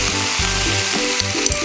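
Sausage and vegetables are being stir-fried, and a loud, close sizzle crackles throughout. Steady rhythmic pulses suggest tossing or stirring in the pan during a short burst.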